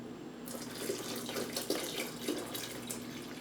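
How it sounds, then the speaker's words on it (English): Water runs steadily from a tap into a vessel, a continuous splashing gush with a few louder gurgles, close by. "Go ahead and pour some regular water into here."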